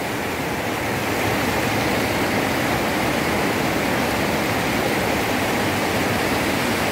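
Heavy water pouring down steadily and loudly, a dense continuous roar like a downpour or waterfall, close and filling the whole clip with no talk.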